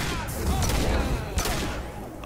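Pistol fire from the hand cannon in the video game Mass Effect 2: a few sharp gunshot cracks over a rumbling, busy game background, with a faint voice nearby.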